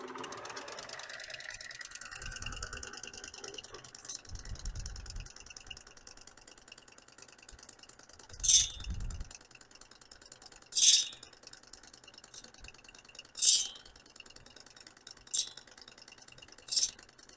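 A saw blade gummer grinder hums at a low steady level while its wheel touches the saw teeth in five sharp, bright bursts spaced a couple of seconds apart.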